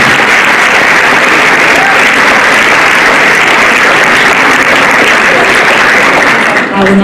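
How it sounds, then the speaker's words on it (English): A large school prize-giving audience claps loudly and continuously for co-curricular award recipients, a dense sustained roar of many hands that holds steady for several seconds before tapering at the very end. "may I ask that we give the recipients of our co-curricular awards a final round of applause."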